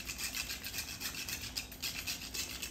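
Whole nutmeg is rubbed against a grater over a pot of apple rabri, making a faint, close rasping scrape in quick repeated strokes with no voices.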